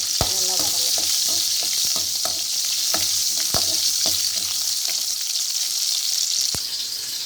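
Garlic cloves and ten to twelve small onions sauté in a pan for an idli sambar, a loud steady sizzle broken by sharp clinks and scrapes of a stirring spoon against the pan.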